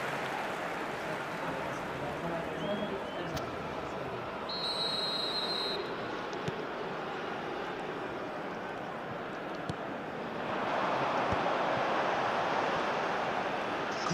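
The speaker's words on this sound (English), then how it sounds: "And the whistle's gone, presumably for offside." A referee's whistle in an eFootball 2026 match gives one clear, sustained shrill blast amid steady crowd noise, with match commentary running throughout.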